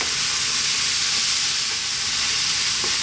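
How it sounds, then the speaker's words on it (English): Chickpeas frying in a pan for fried rice while being stirred, giving a loud, steady, bright sizzle and hiss that holds without pause, close up. "Now we're going to add in our chickpeas. And again, 2 to 3 more minutes. Keep them moving."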